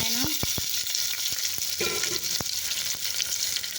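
Onions fry in oil with green chillies and curry leaves, a constant crackling sizzle punctuated by sharp, regular clicks of a spoon stirring against the pan, close and alone.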